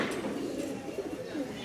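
A Rajshahi giribaz pigeon coos close by in a short series of low, throaty rolling calls that repeat in quick succession.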